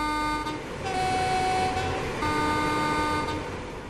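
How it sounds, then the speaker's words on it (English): A Class 350/1 electric train horn in Train Sim World 5, heard from outside the train: loud two-tone blasts that switch pitch and hold for several seconds. "Let's listen to the horn."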